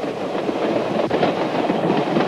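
A train rolling along rails while passing out of a big city into farm country, heard as a steady, loud, continuous rumble with faint rhythmic clatter throughout.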